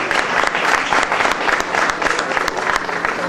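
Loud, dense applause from an audience at an awards ceremony for a playback singer, steady clapping filling the hall for several seconds with faint voices mixed in.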